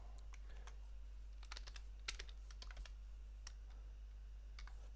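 Computer keyboard keys clatter in irregular bursts of quick clicks, close and fairly quiet over a steady low electrical hum, while someone types a database name for a MySQL connection in C++ code.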